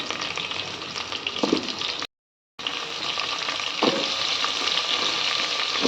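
Pumpkin pieces, onions, mustard seeds, cumin and green and dried chilies fry in hot oil, a loud continuous sizzle with occasional stirring scrapes and a brief silent gap.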